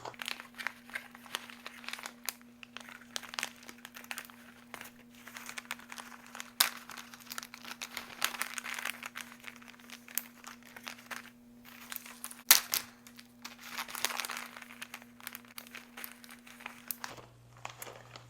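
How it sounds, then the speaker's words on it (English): Plastic zip bags of freeze-dried peas are handled and pressed shut, giving close, continuous crinkling and crackling over a steady low machine hum that cuts out near the end. "Let me go ahead and zip these up."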